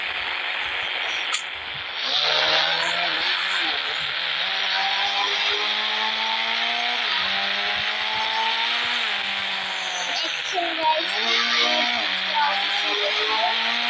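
A car engine idles and creeps along while being parked, a close, steady droning hum whose pitch rises and dips gently over a background hiss, with a few faint clicks.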